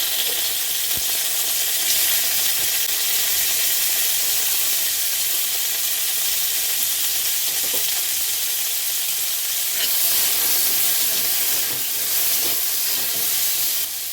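Chopped tomatoes sizzling hard in hot oil for a begun ilish curry of eggplant and hilsa, a loud, dense, continuous frying hiss running throughout with faint scattered clicks.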